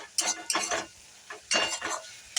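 A spice paste mixed with yogurt fries in oil for okra in yogurt curry, stirred in bursts with scraping spoon strokes and sizzling between short pauses.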